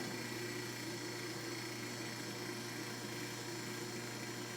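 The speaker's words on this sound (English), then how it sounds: "the lathe did come with this old motor, and it runs quite smooth." An old, heavy Westinghouse motor driving an Atlas lathe hums steadily and smoothly, with a constant even drone and no audible vibration or knocking, and no talking.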